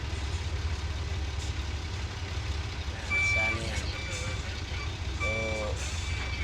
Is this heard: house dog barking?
no